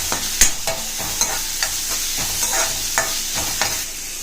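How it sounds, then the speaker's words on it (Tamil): Poppy seeds, onion and ginger sauté in a pan, giving a steady close sizzle broken by repeated scraping strokes of a spoon stirring at a regular pace. "இதை நல்லா வதக்கலாம்"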